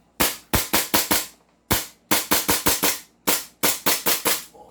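A Pit Viper airsoft gun fires three quick bursts of sharp, close, loud cracks, each burst holding four or five shots with brief pauses between them, and no talking.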